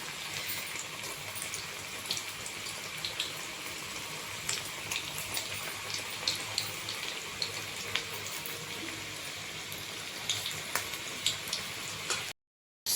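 Onion bajji frying in hot oil, a dense, steady bubbling sizzle throughout that cuts off abruptly near the end, with no voices.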